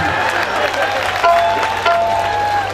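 Audience applause at a Punjabi comedy music show, a short burst of dense clapping and crowd noise lasting under three seconds, fairly loud with voices mixed in.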